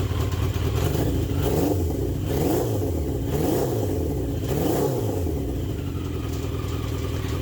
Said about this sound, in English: Back to the throaty goodness. And here it is with the wrapped baffle.